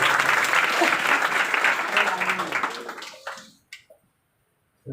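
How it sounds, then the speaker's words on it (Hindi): Listeners at a religious discourse gathering clap loudly after a young girl's bhajan, a dense burst of applause that fades out over a few seconds, leaving a couple of isolated claps and then silence. "एक बार जोरदार और तालियां।"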